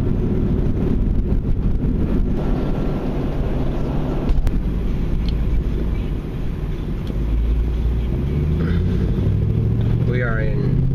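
A 1999–2004 Jeep Grand Cherokee creeping through stop-and-go traffic on a hot day, with a low steady engine and road drone inside the cabin and a brief rise in engine note near the end.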